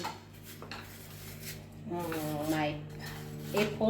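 Apple pieces drop into a blender jar in a few soft knocks and clatters, with a kitchen hum underneath and someone talking over part of it.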